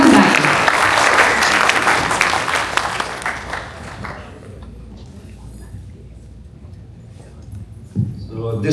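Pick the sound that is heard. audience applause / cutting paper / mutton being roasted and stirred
audience applause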